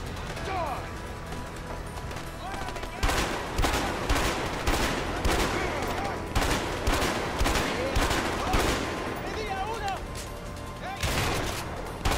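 Gunfire in the video game A Way Out, a rapid series of loud, sharp shots and bursts over roughly nine seconds amid a busy, dense game soundscape, with voices talking underneath.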